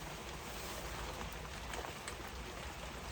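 Steady rain falling outside a greenhouse on a cold, damp day, a dense even hiss of drops on surfaces with no pauses, fairly faint and alone without voices.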